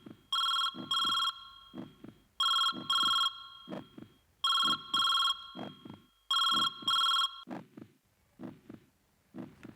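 A telephone ringtone rings in four repeated bursts of bright electronic tones, each with a short pattern of paired chimes and softer beeps, fairly clear and near, with a few fainter beeps trailing after.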